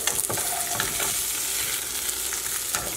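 A cod fillet hisses in hot oil after being flipped in a frying pan, a steady close sizzle with faint light clatters of the utensil and no voices.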